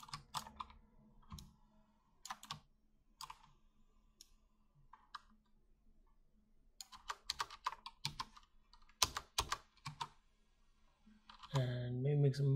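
Clicks and taps on a computer mouse and keyboard during level-art lighting work, sharp intermittent bursts spread across the stretch with quiet gaps, some voice-like sound mixed in, ending in a louder tonal sweep.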